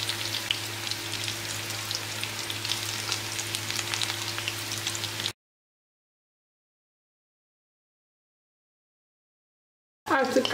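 Cauliflower pieces fry in oil with a dense, steady crackling sizzle close by, cutting off abruptly into silence before a brief burst returns at the end.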